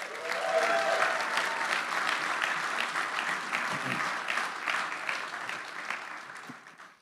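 A church audience gives a round of applause for the pastor's wife, steady, full clapping from many hands that holds for several seconds before tapering off.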